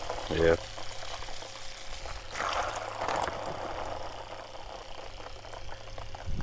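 Water gushing from a hose at an off-grid RV homestead, a steady loud rushing flow throughout with a few brief louder splashes, and a voice speaking over it.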